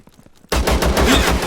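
Automatic gunfire in the video game Zero Sievert: after a quiet stretch, a loud, sustained burst of rapid, evenly spaced shots cuts in and keeps going to the end.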